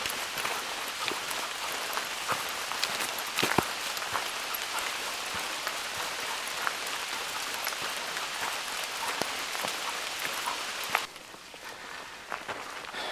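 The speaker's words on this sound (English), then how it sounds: "it's been raining lightly for the last little while" Light, steady rain patters on the leaves and ground of a wooded forest trail during a backpacking trip, with soft footsteps mixed in; the shower continues evenly throughout before quieting slightly near the end.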